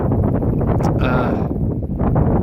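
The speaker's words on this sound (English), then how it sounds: "it's slightly sheltered from the pretty much northerly wind" Loud, steady northerly wind buffets the microphone at an exposed coastal wild camp spot in North Cornwall, a continuous low rumble with gusty swells and no talking.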